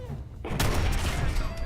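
Gunfire in Fallout 4: a sudden loud burst at about half a second, then a dense, rumbling crackle of shots or explosions carrying on to the end.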